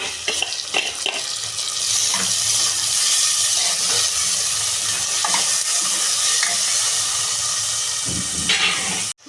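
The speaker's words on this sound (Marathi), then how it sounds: "इथे आपला कांदा टोमॅटो तळून झालेला आहे चांगला" Onion and tomatoes fry in hot oil in a pan for a mixed Bhogi vegetable dish, giving a steady close sizzle and hiss with occasional stirring scrapes throughout, with no talking.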